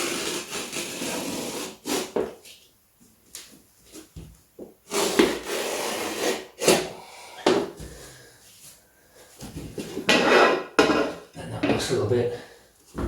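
A knife slices through open mesh netting bag material, producing scattered scraping and rustling cuts with brief clinks and handling noises, close by with pauses between strokes.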